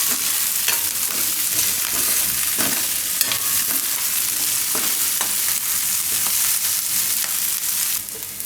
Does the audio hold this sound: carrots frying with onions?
yes